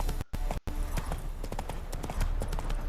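A horse gallops in the video game The Witcher III, its hooves beating out a quick, steady clip-clop rhythm that stays close and continuous throughout, apart from two tiny dropouts near the start.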